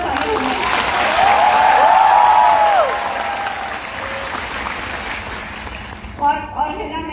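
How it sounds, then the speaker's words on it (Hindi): An audience at a motivational talk breaks into loud, sustained clapping that swells and then gradually fades, with a voice speaking over it and toward the end. "जरा एक बार जोरदार तालियां।"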